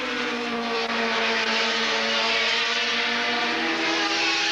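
Race cars from the 1982 Swann Series at Surfers Paradise scream past at around 165 mph, a loud, continuous high-pitched engine roar with steady harmonic tones and no talk.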